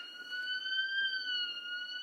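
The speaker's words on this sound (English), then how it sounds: "We've got an alarm going off." A steady electronic alarm tone rings continuously outside factories, a high sustained pitch with harmonics, heard from a moderate distance.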